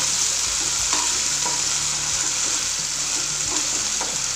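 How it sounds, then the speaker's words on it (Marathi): Potatoes lightly frying in oil over a low flame, a steady close sizzle running throughout with occasional soft stirring scrapes. "आपल्याला हा बटाटा तळून घ्यायचा आहे"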